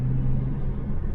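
A new car's engine pulls on the open road as a steady, close, low rumble with a slight hum. It runs evenly for a moment with no voices.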